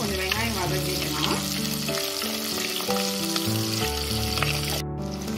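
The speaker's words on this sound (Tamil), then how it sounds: "வெங்காயத்தை போட்டு கொஞ்சம் வெங்காயம் வதக்கிக்கலாம்." Small onions and curry leaves fry in a clay pot for a Tamil mutton curry, giving a steady, dense sizzle that runs close and loud throughout, with a brief clink of stirring.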